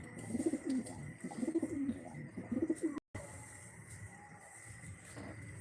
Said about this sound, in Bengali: তো কবুতরগুলো একটু দেখতেছি কোনটা কি অবস্থায় আছে